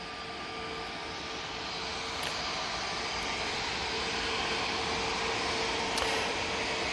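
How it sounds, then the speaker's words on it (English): An EasyJet airliner lands at Manchester Airport, a steady jet engine roar with a thin high whine that builds gently, with brief faint clicks over it and no one speaking. "EasyJet now coming on right in front of us"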